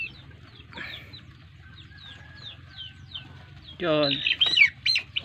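Chickens on a small native chicken farm cluck and chirp softly at a distance, then break into a loud, close squawking flurry near the end, with a brief spoken word early on.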